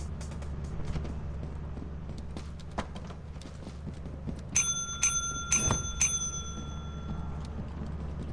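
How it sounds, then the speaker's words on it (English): A bell rings several times in quick succession in the video game Lethal Company, sharp bright dings arriving in a burst over a low game hum, with scattered clicks before. "If you keep ringing the bell, he gives you a bonus"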